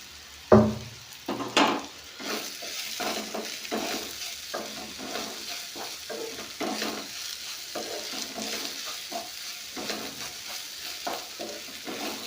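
Snake gourd fry gets stirred with chilli powder in a pan, a soft continuous sizzle under a steady run of scraping spoon strokes, opening with a couple of sharp metallic knocks.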